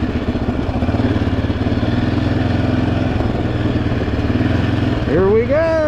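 Yamaha Raptor 700R ATV engine running steadily with a close, throaty idle, then revving upward near the end of the clip.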